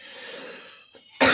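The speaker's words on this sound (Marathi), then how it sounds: "सर्दी खोकला झाला आहे." Someone with a cold gives a single harsh cough at the end, close and loud, after a short stretch of wheezy, raspy breathing.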